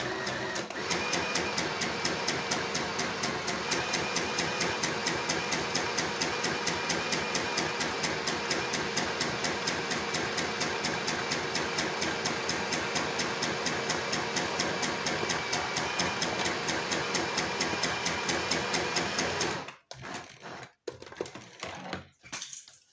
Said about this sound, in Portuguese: eu vou costurar na máquina